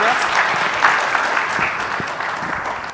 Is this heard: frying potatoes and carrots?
no